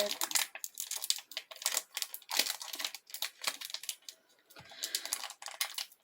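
Plastic wrapper of a North American trading card pack being pulled and crinkled as someone struggles to tear it open, a run of close, sharp crackling bursts with brief pauses between.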